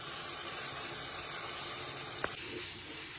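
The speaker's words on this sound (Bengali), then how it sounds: "এবার আদা রসুন বাটাটা দিয়ে দেবো।" Ginger-garlic paste hitting onions frying in oil for a desi chicken curry, a steady loud hiss and sizzle throughout with one brief clink partway through, no voices.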